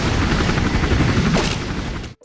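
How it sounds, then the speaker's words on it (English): A helicopter in the 2002 World War One shooter game Iron Storm, a loud continuous rotor roar with rapid chopping pulses that cuts off abruptly at the end. "Best to move around a little against the helicopters."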